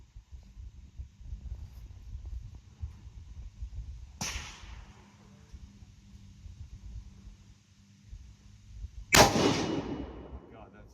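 Two sharp, loud rifle shots from a new 7 PRC crack at a shooting range several seconds apart, each a sudden blast with a brief echoing tail over quiet outdoor background.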